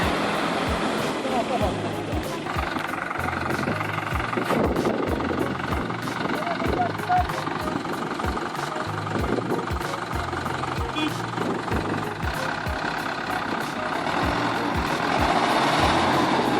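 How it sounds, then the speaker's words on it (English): A tractor stuck deep in mud roars, its engine straining in a loud, continuous drone with a knocking, rumbling rhythm, while voices are faintly mixed in. "The engine roared like the scream of a trapped beast"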